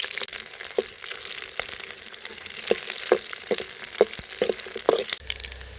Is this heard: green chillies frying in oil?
yes